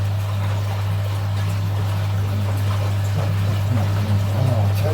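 Strong wind buffets a microphone outdoors beside a koi pond, a constant loud roar with a heavy low drone and rushing noise throughout, no pauses.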